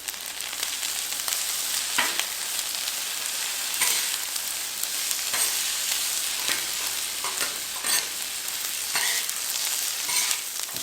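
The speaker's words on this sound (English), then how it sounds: "I'm cooking the bell peppers, the onions, and the snap peas first" Bell peppers, onions and snap peas sizzle steadily on a Blackstone griddle, a bright continuous frying hiss broken by several sharp scraping stirs and tosses of the vegetables across the hot flat-top.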